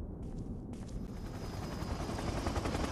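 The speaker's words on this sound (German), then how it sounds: "Oh, da kommt unser Heli." A helicopter in the Resident Evil video game arrives with a loud, steady rotor thrum that grows slightly fuller as it approaches, alone without talk.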